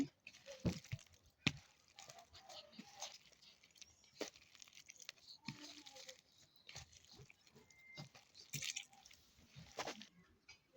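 Boiled potato is kneaded and mashed by hand for aloo paratha, giving soft, wet squishing and squelching sounds in an irregular rhythm, close and fairly quiet.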